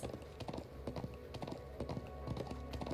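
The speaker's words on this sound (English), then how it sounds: "I'm glad I still remember how to ride a horse." Horse hooves clip-clopping as a character rides through the Trails of Cold Steel II video game, a quick irregular patter of tapping steps under faint background music, steady throughout with no speech.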